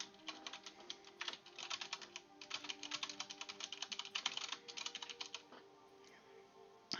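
Quick, steady keystrokes on a computer keyboard, close by and alone, in dense bursts with brief pauses and a final sharper tap.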